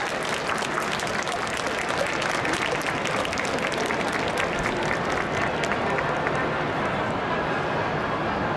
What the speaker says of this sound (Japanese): 今一度大きな拍手をお送りください